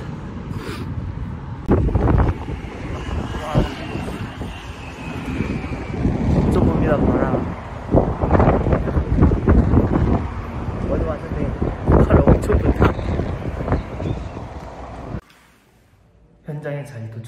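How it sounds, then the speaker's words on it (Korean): Strong gusts buffet the microphone outdoors, heavy rumbling bursts rising and falling over several seconds before dropping away near the end, with faint background sound under the roar. "바람이 엄청 봅니다."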